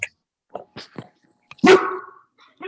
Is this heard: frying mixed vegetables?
no